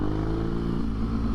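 BMW motorcycle engines hum and rev nearby, a steady mid-pitched drone that shifts slightly as they pass.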